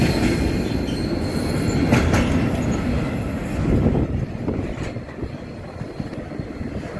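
A freight train rolls through a London station, a loud steady rumble of wagons with wheel clatter and brief squeals, easing slightly toward the end as it passes close by.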